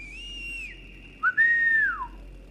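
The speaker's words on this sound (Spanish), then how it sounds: "Pinche chiflido de mierda" A character in the video game Metro 2033 whistles: a clear sustained tone, then after a short break a second, higher, gliding whistle that falls away, alone over a faint background hum.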